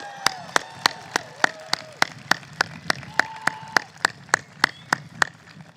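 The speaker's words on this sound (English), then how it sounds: "Graduates, can we give them a big round of applause?" Evenly spaced claps at a graduate commencement, a steady rhythm of sharp single claps around three per second, with a faint tone drifting underneath.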